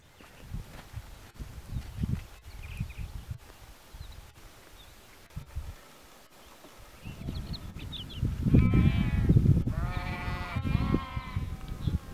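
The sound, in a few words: sheep bleating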